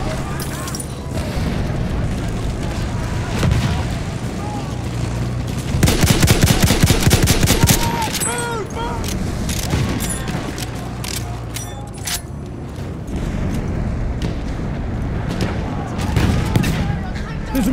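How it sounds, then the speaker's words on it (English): Sustained automatic machine-gun fire in a Battlefield 1 Conquest match, with a fast burst of rapid shots peaking near the middle amid ongoing battlefield gunfire, explosions and mechanical clatter. "There's a machine gun."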